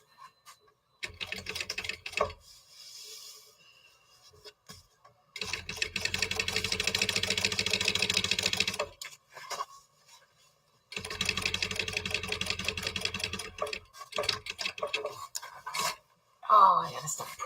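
A sewing machine stitches a seam through waterproof canvas for a crossbag bag, running in two long steady bursts of rapid mechanical whirring separated by pauses, with a few short starts and quiet handling noises between them.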